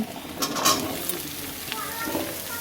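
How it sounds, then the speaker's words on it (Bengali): Onions and chopped vegetables frying in a pan for a Malabar spinach dish, a steady sizzle with a few scrapes and clinks of stirring, close and moderately loud. "পেঁয়াজ এবং সমস্ত সবজিগুলোকে ভালো করে কিছুক্ষণ ভেজে নেব"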